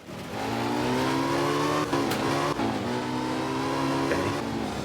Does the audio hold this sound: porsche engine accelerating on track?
yes